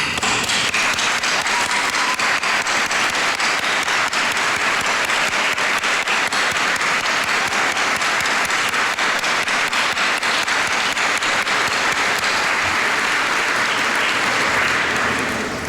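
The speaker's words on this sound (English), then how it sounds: "would you please stand so we could give all of you a round of applause for your support?" Audience giving a standing round of applause for alumni supporters at a Penn State College of Medicine White Coat Ceremony, loud and dense clapping sustained evenly throughout without a break.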